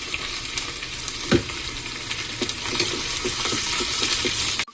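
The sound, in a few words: onions and tomato sautéing in oil with mustard seeds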